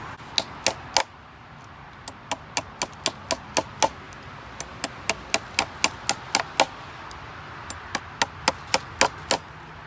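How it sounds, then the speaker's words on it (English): Sharp hammer blows join lengths of timber while building a polytunnel, in steady, evenly spaced runs, loud and close, with brief pauses between groups of strikes. "We'll hammer those together"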